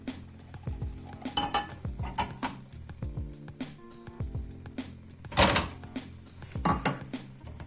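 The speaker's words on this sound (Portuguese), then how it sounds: "Com o auxílio da tampa mesmo, eu vou virar." Gluten-free, lactose-free pan bread is flipped in a frying pan with the help of its lid, giving a run of close clattering knocks of metal lid and pan, with a louder clank partway through and faint sizzling.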